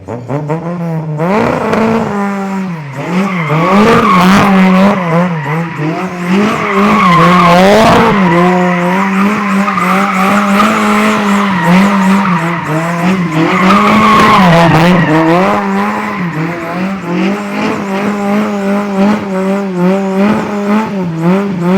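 A Toyota AE86 engine, revving toward about 9,000 rpm, screams loud and close in a sustained high howl, rising and falling through several long pulls with no voices over it.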